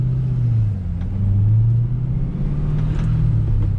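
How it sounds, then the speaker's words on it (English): A 2007 Shelby GT with an aftermarket MagnaFlow X-pipe exhaust cruises on a California road, its engine giving a steady, deep rumbling drone with slight rises in pitch, heard from inside the car with no talk. "This one has an aftermarket exhaust with a X-pipe."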